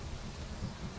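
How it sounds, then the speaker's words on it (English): A low, continuous rolling rumble of thunder during a rainstorm in the video game Minecraft, with rain noise beneath, steady and fairly soft. "Scary lightning and thunder."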